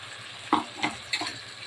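A masala paste of mint, coriander, tomato, ginger and garlic roasts in a pan, sizzling softly under three short scraping stirs.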